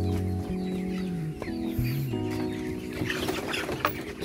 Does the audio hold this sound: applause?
no